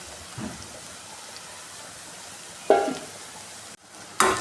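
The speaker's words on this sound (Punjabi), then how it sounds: "ਪਿਆਜ਼ ਨੂੰ ਵਿੱਚ ਵਿੱਚ ਅਸੀਂ ਹਲਾਉਂਦੇ ਰਵਾਂਗੇ" Onions fry in a pan for a mixed dal, hissing softly with bursts of louder sizzle and scraping as they are stirred.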